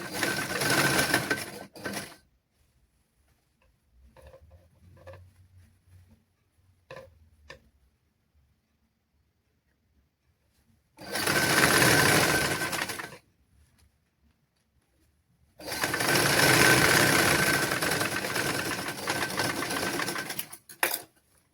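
A sewing machine stitches fabric in three bursts of steady, rapid mechanical whirring, each lasting a couple of seconds, separated by quiet gaps with faint handling clicks.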